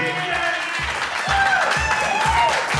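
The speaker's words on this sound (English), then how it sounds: "Great big round of applause for Chris and his very, very proud mom, Terr" Wedding guests clap in a sustained round of applause at a reception, steady and fairly loud, with a few voices faintly mixed into the crowd noise.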